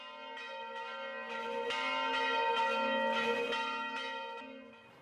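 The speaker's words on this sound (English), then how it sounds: "they smiled and cheered as the bells rang" Church bells ringing out across a valley during a celebration, several strong overlapping peals with long shimmering tones that swell and hold steady, loud and close, with no talking.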